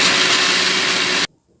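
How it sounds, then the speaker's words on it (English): Kitchen blender whirring loudly and steadily as it purees pepper, garlic, ginger and carrot, then cutting off abruptly into near silence. "I blend everything together."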